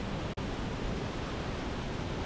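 Dog Creek Falls in the Columbia River Gorge, a two-tier waterfall, makes a continuous dense roar of rushing water, steady and broadband with no other sounds.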